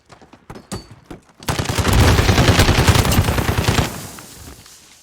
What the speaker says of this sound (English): Going to a little bit more range, some machine guns.